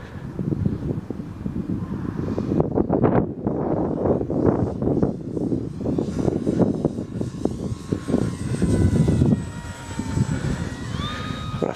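A Dynam Tempest RC model airplane flies in strong wind, its engine whining and shifting in pitch as heavy gusts buffet the microphone, loud and continuous through the whole stretch.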